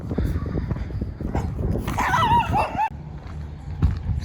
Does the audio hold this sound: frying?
no